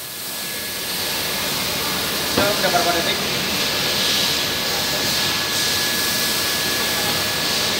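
A UV varnish coating machine processing PVC boards for cabinets gives off a steady, loud broadband hiss and whir, with a brief rattling burst partway through and people talking over the machine noise.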